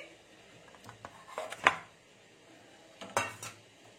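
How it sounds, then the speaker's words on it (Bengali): Cooked vapa pitha batter is tipped out of a pot onto a metal plate, giving a few scattered clinks and scrapes of metal, two brief louder clatters, fairly quiet and close, with no voices. "থালাতে আমি ঢেলে নিচ্ছি"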